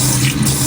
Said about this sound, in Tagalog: So, maghugas muna kami ng kamay.